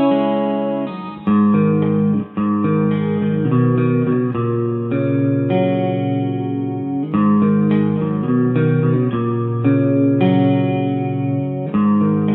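Electric guitar with both pickups, played through a Fender Hot Rod Deluxe amp with reverb and chorus, ringing sustained chords and changes over about twelve seconds, loud and alone with no talk.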